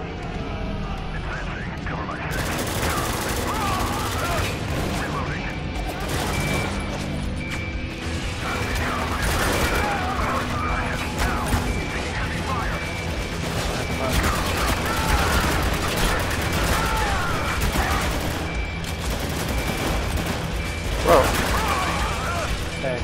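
Heavy gunfire and battle noise from Spec Ops The Line, a dense, continuous wall of shots and mechanical clatter filling the whole stretch, with players talking over the din.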